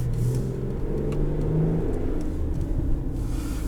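The 3.5 V6 engine of a 2021 Toyota Highlander Platinum accelerates in sport mode, a steady mid-pitched rumble and whir with a rising tone heard from inside the cabin.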